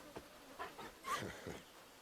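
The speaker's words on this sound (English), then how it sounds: "Gotta hate that noise. Mosquitoes suck." Bloodflies buzz in Final Fantasy XVI, faint droning insect whines rising and fading in several short passes, quiet and alone in the background.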